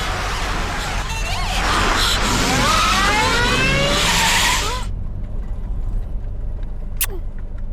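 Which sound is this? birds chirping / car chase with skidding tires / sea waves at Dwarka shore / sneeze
car chase with skidding tires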